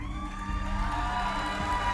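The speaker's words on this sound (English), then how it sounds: "Girls are cheering. Love it." Girls cheer during a Star Citizen event broadcast. Their excited whoops and crowd noise ride over a sustained musical backdrop for a couple of seconds.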